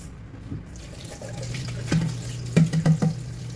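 Steady running water from a tap fills the clip, with a few louder splashes and gurgles near the end as the flow hits the basin.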